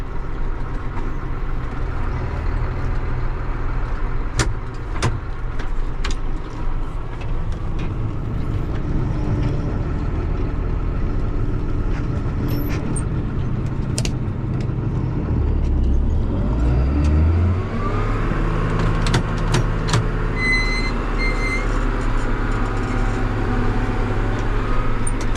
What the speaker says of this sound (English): Stupid noisy clutch